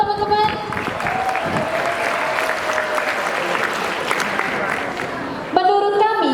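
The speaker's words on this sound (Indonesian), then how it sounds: "Tepuk tangan dong teman-teman." An audience of FISIP Undip students bursts into sustained applause at a campus research grand opening, a dense, even roar of clapping filling the room, with a voice speaking briefly before and after.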